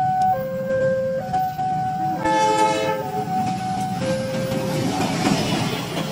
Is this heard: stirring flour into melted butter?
no